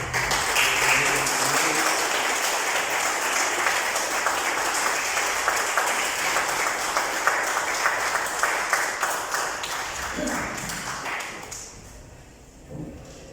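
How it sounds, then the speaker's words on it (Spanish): Sustained audience applause at an international academic meeting, a dense steady patter of many hands clapping for about ten seconds before tapering off and fading to near quiet at the end. "Momento de que le demos un aplauso"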